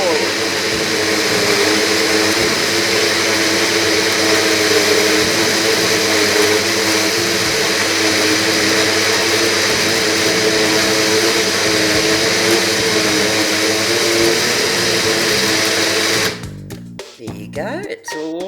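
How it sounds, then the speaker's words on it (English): A NutriBullet blender runs steadily for about sixteen seconds, blending eggs and other ingredients for English muffins with a loud, even whir, then cuts off abruptly, followed by brief clatter and a spoken word. "What you do is turn your NutriBullet on."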